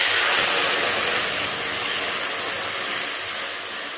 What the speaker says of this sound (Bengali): এবার আমি কড়ার মধ্যে দিয়ে দিচ্ছি জল।